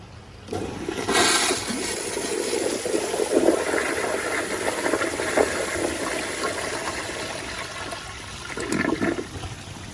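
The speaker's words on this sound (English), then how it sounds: "let's flush this." A rusted Kohler Kingston toilet with a water guard flushes with a steady rushing, gurgling swirl of water lasting several seconds, fading slightly before a final surge near the end.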